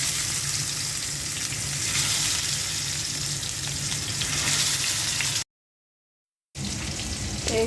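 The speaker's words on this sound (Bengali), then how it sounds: "কয়েকটা পাঙ্গাস মাছ ভেজে নেব। আমি হলুদ মরিচ দিয়ে মেখে নিয়েছি।" Pangas fish pieces coated in turmeric and chilli frying in hot oil, a steady dense sizzle with crackling spatter that cuts out briefly to silence before resuming.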